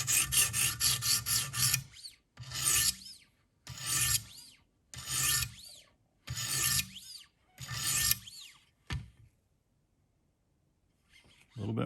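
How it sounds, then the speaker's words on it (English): Rhythmic rasping strokes of a Buck 422 Bucklite knife tip being ground on a Wicked Edge sharpener, about six close, loud passes separated by brief pauses, then near silence. "sometimes you need to grind it down"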